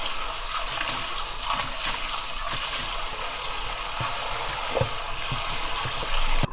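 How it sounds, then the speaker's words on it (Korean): Blanched fatsia shoots are poured into cold water to cool them, giving a steady broadband rush of running and splashing water with a few soft knocks. It is close and continuous, with no talk. "그걸 찬물에 부어서 식히는구나"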